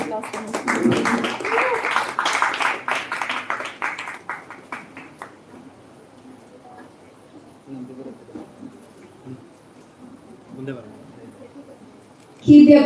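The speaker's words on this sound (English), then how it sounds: "Girls, a huge round of applause for her." Audience clapping for a contestant at the Miss South India beauty pageant, a dense burst of hand claps for about four seconds that fades to near quiet with a few stray sounds.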